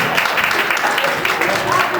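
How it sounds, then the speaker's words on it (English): Stand-up comedy club audience clapping on request, a loud continuous crowd patter with scattered voices and cheering mixed in throughout. "Clap your hands if you like Captain Crunch."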